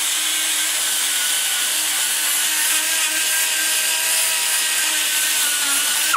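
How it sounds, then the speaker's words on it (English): A wooden chamber is sanded by hand with 200 grit sandpaper, a steady, continuous hiss of abrasive rubbing that runs close and evenly throughout with no pauses and no voices. "I'm going to finish going back over them with 200 grit."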